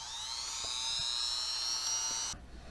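A small Dremel-style rotary tool spins a drill bit at high speed with a steady, close whine, held for about two seconds before it suddenly cuts off into a quieter hum.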